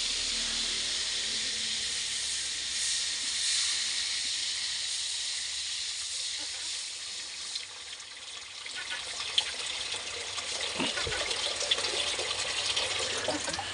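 Water added to pancit cooking in a pan, a soft continuous hiss and trickle with faint bubbling, fairly quiet and steady, with a few small knocks near the end.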